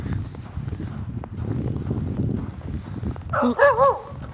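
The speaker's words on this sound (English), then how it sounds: "Let's go say hello to my neighbor's dogs." Neighbor's dogs on a cold, icy morning give a short burst of barks and yelps near the end, after a few seconds of footsteps and shuffling outdoors.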